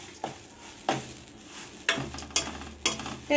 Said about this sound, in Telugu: ఆ విధంగా కలిపెడతాం లేకపోతే మాడిపోతాయి